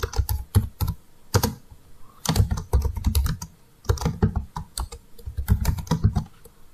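Typing on a computer keyboard while entering data into an Excel spreadsheet, close crisp key clicks in quick bursts separated by short pauses, alone without talk.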